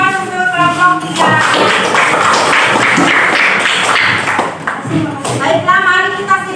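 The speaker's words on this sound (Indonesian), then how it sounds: "Beri aplaus untuk kelompok 3." Classroom audience applauding a student group, a dense burst of clapping lasting several seconds between stretches of someone speaking.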